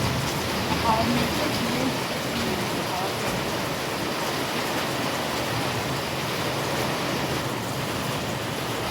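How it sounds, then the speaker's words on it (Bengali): Steady rain pours during a kalboishakhi (nor'wester) storm, a dense, even hiss of falling water that fills the whole stretch at constant loudness with no talk over it. "বৃষ্টি পড়ার আওয়াজ।"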